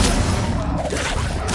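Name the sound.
Expelliarmus spell effect in the video game Hogwarts Legacy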